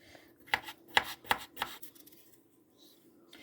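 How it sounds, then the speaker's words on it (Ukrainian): Knife chopping a cucumber, four crisp, evenly spaced cuts against a board in quick succession, close and fairly quiet, followed by near silence. "Огірочки буду різати таку."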